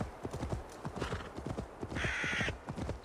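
Rhythmic horse hooves in Assassin's Creed Valhalla clip-clopping at a steady walking pace, close by, with a brief higher whinny-like tone partway through.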